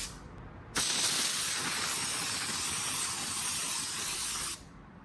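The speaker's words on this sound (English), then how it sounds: "Now over here, let's spray at too high of a pressure." A spray gun sprays automotive sealer at excessive pressure, a loud steady hiss that starts abruptly, holds evenly for about four seconds, then cuts off.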